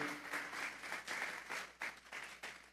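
A church congregation applauds as an offering to God, a burst of mixed clapping that swells and fades in waves over a few seconds, with no talk.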